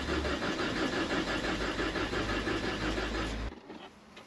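A camper van's engine fails to start, the starter cranking in a steady, loud, continuous churn for about three and a half seconds before cutting off, leaving a quieter tail.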